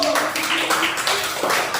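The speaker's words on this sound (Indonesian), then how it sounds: "tepuk tangan dulu buat kelompok 1" Applause from a classroom for a presenting group, a dense patter of many hands clapping at once, steady and fairly close, with no talking over it.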